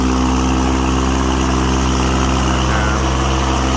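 An old Japanese three-cylinder diesel engine driving a welding generator runs at a steady idle, a loud, continuous low rumble with strong harmonic hum that stays constant throughout.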